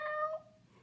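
A person imitates a cat with a single convincing meow, a brief tonal cry that fades out quickly in a quiet room.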